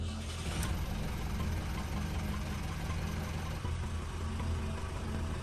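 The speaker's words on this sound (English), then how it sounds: "The plan for this test drive is to keep the engine above 1000 RPM for the most time" A boat's diesel engine runs steadily on a test drive after repairs, a dense, constant low rumble with a faint knocking texture throughout, fairly quiet and even, with no talk.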